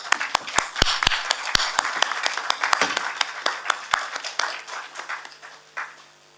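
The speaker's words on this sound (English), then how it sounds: "Have a round of clap." Scattered applause from a conference audience honoring a speaker at a felicitation on stage, with sharp individual claps that thin out and fade toward the end.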